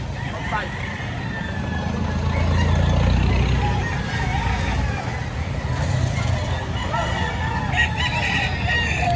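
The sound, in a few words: rooster crowing, gamecock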